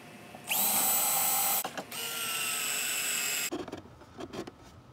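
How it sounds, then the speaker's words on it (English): A power drill drives screws into pallet wood while building a gravity deer feeder, a loud steady whirring burst followed by a second long run, then a few faint clicks and knocks. "We're going to screw in right here."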